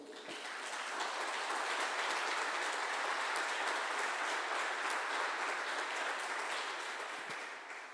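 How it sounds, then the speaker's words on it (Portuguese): A church congregation applauds during a worship service, a dense, even wash of clapping from many people lasting several seconds at moderate distance. "Dá um aplauso ao Senhor."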